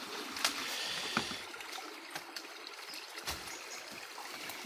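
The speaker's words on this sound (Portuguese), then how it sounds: "Água corrente." Running water of a small river stream near a rural farm, a steady broadband rush with occasional splashes and trickles, fairly close and continuous, with no talking.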